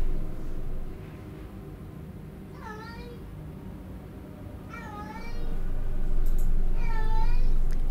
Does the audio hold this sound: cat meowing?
yes